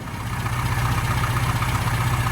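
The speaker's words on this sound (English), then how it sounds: "got the engine going again" A car engine runs at a steady idle just after ignition work and tuning, a loud, even mid-low rumble throughout with no talking.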